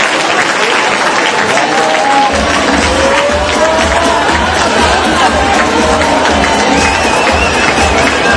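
Spectators at the finish line of the 2011 Sparkasse Marathon applaud arriving runners with loud, unbroken clapping and some cheering, a thick wall of crowd noise that never lets up.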